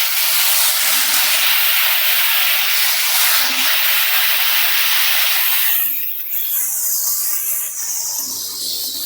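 Chopped bottle gourd and potato hit a hot oil tempering with asafoetida, giving a loud, steady broadband sizzle and hiss that softens after several seconds, with no talking.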